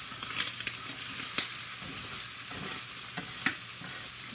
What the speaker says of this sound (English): I'm going to turn my fish because I like for it to really like start browning and